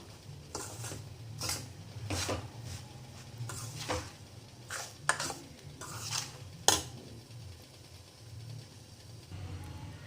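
Semolina (rava) is dry-roasted in a pan and stirred repeatedly, heard as a series of quiet scraping and clinking strokes of a spoon against the pan, close up and fairly faint.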